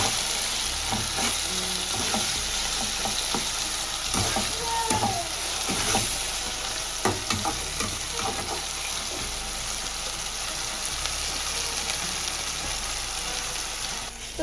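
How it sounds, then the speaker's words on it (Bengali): Chopped tomato and onion sizzle steadily in hot oil while a spatula stirs them, scraping and clinking against the pan at intervals, with a constant frying hiss throughout. "টমেটো পেঁয়াজটা দেখো অনেকটাই ভাজা ভাজা হয়ে আসছে"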